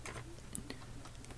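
Quiet, close clicks of typing on a Packard Bell 5131c keyboard, a brief scattered run of keystrokes, with no voice during the clip.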